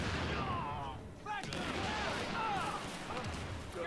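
Rapid gunfire cracks and bursts during a video game shootout at a Russian consulate, dense and continuous, with voices talking over the shooting.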